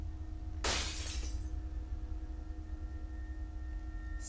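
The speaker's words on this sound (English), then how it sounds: "Sounds like shattering glass." Glass shattering in the video game 7 Mysteries: one sharp crash of breaking glass with a short scattering tail, heard over a constant low hum.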